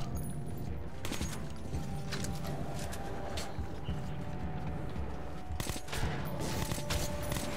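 Scattered gunfire crackles through a dense, noisy scene in the shooter Metro 2033, with several sharp shots standing out against a constant rumble of background action.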